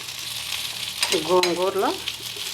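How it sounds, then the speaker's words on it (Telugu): Gongura leaves and chicken fry in oil with a loud, continuous sizzle and crackle, and a brief wavering voice-like tone rises over it midway. "గోంగూర అంతా కూడా ఈ చికెన్లో వేసుకుందామండి. వేసుకుంటే మనకి చక్కగా దీంతో పాటు ఫ్రై చేద్దాం."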